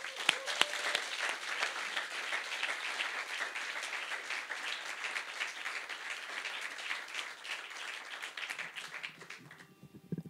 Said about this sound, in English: please, can you get that round of applause started up again